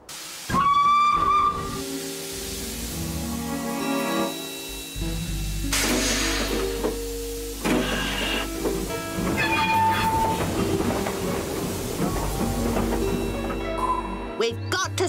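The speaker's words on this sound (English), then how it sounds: "We've got to stop the train." A cartoon steam train sounds a shrill whistle several times while chuffing and hissing steam as it approaches along the rails, with music and effects layered around it.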